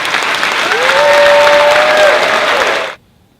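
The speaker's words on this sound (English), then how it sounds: "big, big round of applause" A big round of applause at a National Achievers Society induction ceremony, steady loud clapping from the audience that swells, holds, then cuts off abruptly.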